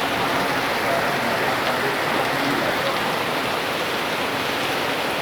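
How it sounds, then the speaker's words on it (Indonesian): Heavy rain falls steadily near Borobudur, a dense, even hiss with no breaks, loud and close, with no voices over it. "Hujan masih turun dengan lebatnya"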